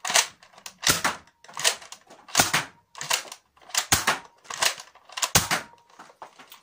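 A modified Nerf Roughcut blaster slam-firing, giving about eight sharp, loud snapping shots in quick succession, some in close pairs, close-up with no talking.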